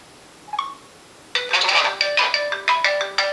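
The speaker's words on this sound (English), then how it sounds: "So my phone is ringing." A smartphone ringtone starts up close and loud after a short chime, then plays a bright, repeating melodic pattern of quick rising notes with no talking over it.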